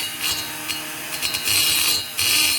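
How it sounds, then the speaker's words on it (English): A rotary tool whines as it grinds the exhaust port of an Echo 670 chainsaw cylinder, with bright, close-up grinding that rises into sustained bursts while the pitch wavers under the work. "Now what I want to do is I just want to grind in the center."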